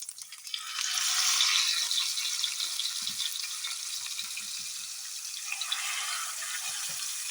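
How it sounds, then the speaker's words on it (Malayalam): Avoli (pomfret) fish shallow frying in a little hot oil, a bright hissing sizzle swelling early and holding steady, close and clear, with faint soft bumps of the pan beneath and no talk. "എണ്ണ ചൂടായിട്ടുണ്ട് നമുക്ക് ഇതിനെ ഒന്ന് ഷാലോ ഫ്രൈ ചെയ്തെടുക്കാം"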